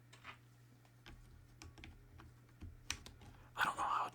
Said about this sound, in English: Now we should be good to get the keys back on here.